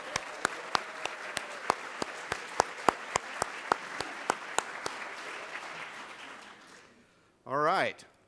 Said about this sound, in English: One more rousing applause for Gene Carbonaro